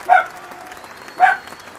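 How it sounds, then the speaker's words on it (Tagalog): A neighbour's dog barks twice in a close-packed residential area at night, each bark short and mid-loud, with a quiet pause between them and no talk over them. "Yung aso nagwabatok sa kapitbahay."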